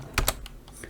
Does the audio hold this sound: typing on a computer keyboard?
yes